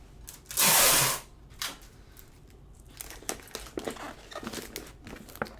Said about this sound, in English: And I put one piece of tape here.